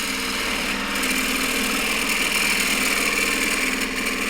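A wood lathe turns a bowl while a slicer tool cuts into it, producing a steady, sustained tonal whine with dense scraping texture, close and continuous without a break.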